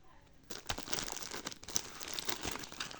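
Barbie toy set packaging being opened, with plastic and cardboard crinkling and crackling up close in an irregular rustle that starts after a brief quiet moment.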